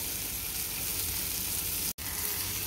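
Halwa fish pieces sizzle in hot oil in a pan, a steady dense crackle that fills the whole stretch, broken by one brief cut of silence near the end.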